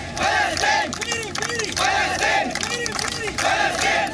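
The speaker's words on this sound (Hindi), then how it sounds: "फिलिस्तीन के हक में नारे लगाए गए" A crowd on a night-time procession at Aligarh Muslim University chants slogans in support of Palestine, loud rhythmic massed voices rising and falling in repeated bursts, close and sustained throughout.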